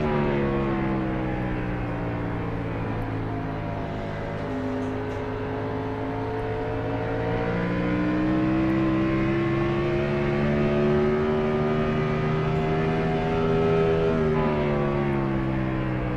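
A race car engine screams at maximum revs in fourth gear during a Cup Series throwback race at Phoenix, a loud, sustained high-pitched drone that climbs steadily in pitch without any downshift.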